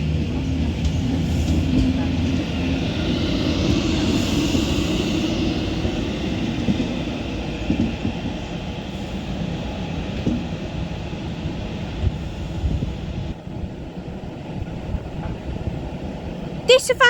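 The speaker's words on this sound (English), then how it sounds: "This Avanti West Coast Class 390 Pendolino 391-26 now arrives into Wolverhampton" An Avanti West Coast Class 390 Pendolino electric train arriving into Wolverhampton station on the West Coast Main Line, a steady low rumble and rolling hum that holds for the whole stretch and eases off slightly near the end.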